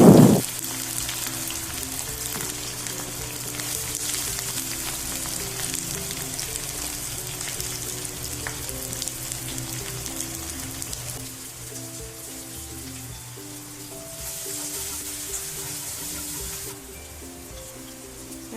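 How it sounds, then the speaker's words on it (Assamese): Onions frying in a pan for an Assamese chicken liver fry, a steady crackling sizzle that holds loud and continuous throughout, with faint clinks and stirring and no talking. "এতিয়া মই ইয়াতে পিঁয়াজখিনি ৰংচঙীয়াকৈ ফ্ৰাই কৰি ল'ম"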